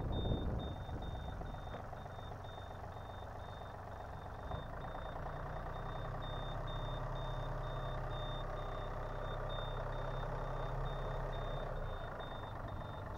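A Yanmar AF-326 tractor fitted with a 1.7 m rotary tiller turns on the spot, its engine droning steadily and close by, with a continuous high reversing-style beep running over the engine throughout.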